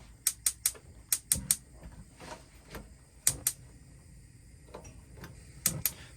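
Repeated sharp ticking clicks from a motorhome's gas hob spark igniter, an Auto-Trail Apache 634 cooker, coming in quick clusters of two or three with short pauses between, close and fairly crisp against a quiet room.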